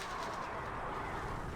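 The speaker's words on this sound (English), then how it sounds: "I keep hearing the birds" Birds cooing in the video game Alan Wake Remastered, a soft low pigeon-like coo faintly heard over a steady background wash.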